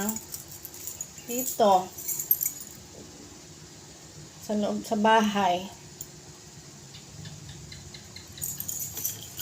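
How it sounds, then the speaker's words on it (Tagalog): Store keys and house keys jangle in bursts, two distinct metallic clusters of clinking between stretches of a person talking. "Ito yung susi ng tindahan."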